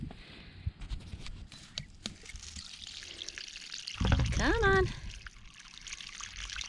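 Weak trickling water from a clogged, large-bore pipe at an off-grid Portugal homestead garden, a thin dribble running under outdoor noise while a person speaks briefly.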